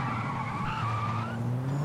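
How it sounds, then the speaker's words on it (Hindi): A Koenigsegg car at full throttle in first gear, with a steady loud engine roar and rising tone plus tire squeal over the brief span. "ये देखो ना फर्स्ट गियर पे मैंने पूरा पंजा दबा रखा है भाई"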